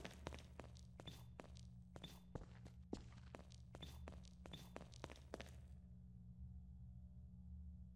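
Footsteps in Half-Life 2: Episode Two, a run of sharp, evenly spaced steps over a low steady hum that stop partway through, leaving only the background drone.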